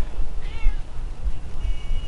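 A cat in the video game GTA V gives a couple of short, close meows over a low rumbling background.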